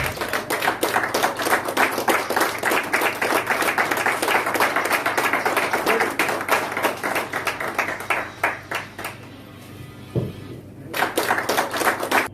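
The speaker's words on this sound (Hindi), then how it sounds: "जोरदार तालियों से स्वागत करें।" An audience applauds to welcome a guest at a farewell and honour ceremony in Bilaspur, with dense rhythmic clapping that carries on strongly, dips into a brief near-silent pause with a single thump, then swells again.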